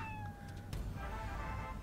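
A pet cat in Fallout Shelter meows, thin tonal cries sliding over steady game music and ambient hum, with a soft click partway through and no talking.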